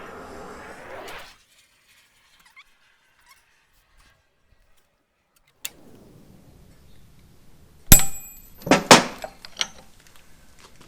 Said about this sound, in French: Il va s'agir de donner un coup de marteau à l'arrière de la tige filetée pour pouvoir marquer l'emplacement.